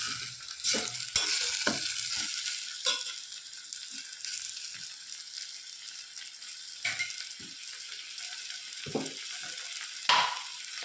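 Tomatoes frying in a pan for egg biryani, a steady close sizzle with intermittent clinks and scrapes of stirring throughout, no voices.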